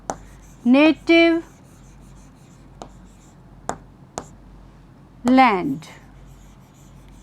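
A teacher writes on a board during an English class: a handful of sharp, isolated taps and strokes of chalk or marker, scattered between stretches of speech.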